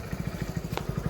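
A new motorcycle engine runs at idle, close and steady, with a quick regular low thumping pulse throughout and a brief clatter partway through.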